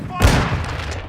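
A flash grenade goes off in a video game as a sudden sharp boom followed by a brief ringing decay, loud and close, with a voice talking over it.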